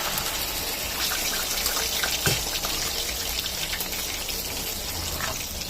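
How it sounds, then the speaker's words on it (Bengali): Water pours steadily into a pot of taro and potatoes for boiling, a continuous close gushing splash with no talk. "এই দেখুন জলটা দিয়ে দিচ্ছি"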